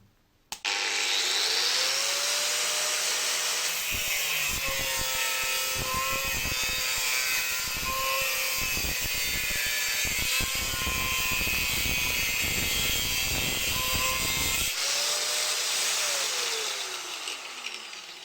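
A ProCraft PW750 angle grinder whines at high speed, starting up abruptly, running steadily and loudly with grinding rasp, then spinning down at the end.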